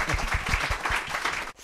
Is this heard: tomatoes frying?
no